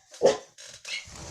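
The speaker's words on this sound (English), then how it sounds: "Oh, dog." A dog gives a few short barks in quick succession, close and fairly loud, alone with no talking over them.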